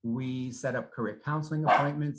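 A dog barks and yips at home, its short barks mixed in with someone speaking steadily nearby.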